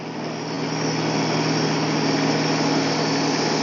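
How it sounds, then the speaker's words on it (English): A sawmill cuts a tree log into inch-thick boards, a steady high engine drone with a constant buzzing whine, close and loud, with no voices. "The sawmill's cutting great."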